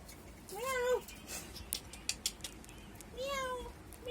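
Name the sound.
person imitating a cat's meow for a parrot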